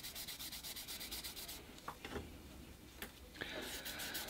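Wet sandpaper rubs a 3D printed bonsai pot in quick, soft rhythmic strokes, followed by faint scraping and a few light taps, with low background noise.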